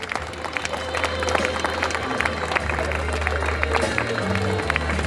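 An audience claps together in a hall, a dense steady patter of many hands close and continuous, with some crowd murmur and a voice underneath.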